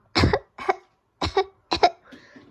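A storyteller's voice imitates a flea coughing in a children's tale: four short, close coughs in an uneven rhythm, followed by a softer, raspy throat sound.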